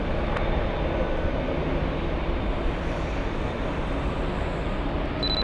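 A Boeing 787 airliner at LAX produces a continuous, broad jet roar that holds steady and loud throughout, with a faint tick near the start and a thin tone near the end.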